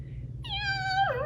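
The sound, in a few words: voice imitating a cat meowing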